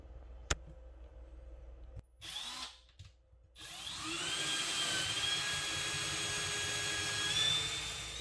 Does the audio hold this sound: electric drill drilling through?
yes